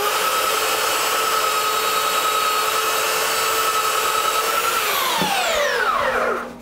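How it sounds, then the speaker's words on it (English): A belt sander runs with a loud, steady whine while its grit belt is cleaned with a standard sanding belt cleaner, then the motor winds down and falls away near the end. "I'm gonna clean off the belt real quick with a belt cleaner"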